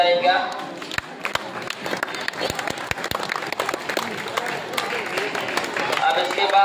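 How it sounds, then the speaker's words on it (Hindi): Audience applause fills a prize-giving ceremony at a madrasa results celebration, steady clapping from a crowd sustained throughout with scattered louder claps standing out. "तालियों से स्वागत किया जाएगा।"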